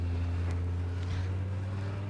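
An Audi 200 with a five-cylinder turbocharged engine pulls away, a steady low engine hum with some wind rumble, moderately quiet and continuous.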